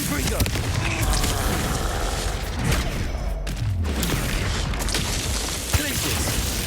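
In the Hogwarts Legacy video game, the Confringo fire blast spell goes off in dense, booming bursts over a constant loud roar of battle effects, with a voice calling out spells over it.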